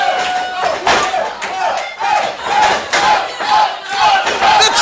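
Wrestling crowd at a Christmas Rumble event roaring and cheering loudly for a wrestler, with surging waves of shouts and chants rising and falling throughout, close and dense.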